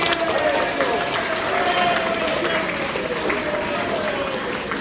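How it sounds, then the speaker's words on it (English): An audience at a gathering of Class 315 train preservation volunteers applauds themselves in steady, dense clapping, with a faint voice audible beneath it. "everyone, round of applause for yourselves"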